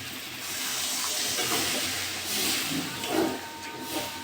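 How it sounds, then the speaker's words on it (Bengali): Water poured into a hot pan of chana masala gives a steady, breathy hiss of steam that swells and fades over a few seconds, with no talking. "আমি এবার জল দিয়ে দেবো"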